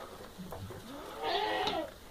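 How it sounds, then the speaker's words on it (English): Week-old baby goats outdoors in cold weather, with a couple of short, thin bleats rising near the end of the moment over a soft background. "Baby goats."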